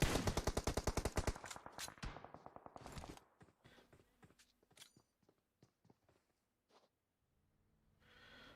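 Rapid bursts of automatic gunfire from PUBG Mobile, loud and close for the first three seconds, then thinning into scattered single shots and faint distant reports before quiet.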